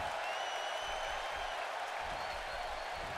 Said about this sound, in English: the crowd comes alive here a little bit in Oklahoma City